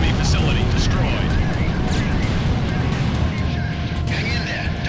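Dense, continuous booming roar of explosions in the video game Ace Combat 4, with rumbling low end and crackling debris, loud and unbroken throughout.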